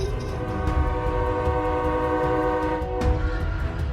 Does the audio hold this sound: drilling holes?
no